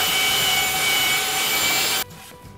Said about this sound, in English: I am going to sand this piece of wood here